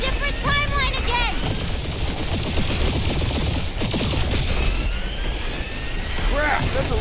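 Turrets in Guardians of the Galaxy pour out a steady, dense stream of gunfire with whooshing passes and sci-fi whines, loud and constant, while voices shout over the barrage.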